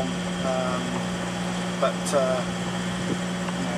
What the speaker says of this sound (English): We continue to motor into the night.